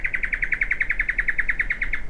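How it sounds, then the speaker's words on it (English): A small bird chirps in a steady, rapid series of about twenty bright, evenly spaced notes, fairly close and clear, alone over a faint low rumble outdoors. "What kind of bird is that?"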